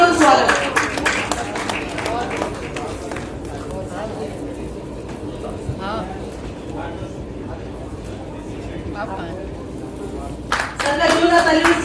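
A seminar audience in a hall claps to welcome guests at the opening of a national medical conference. Scattered clapping comes early and again near the end, with people talking over it.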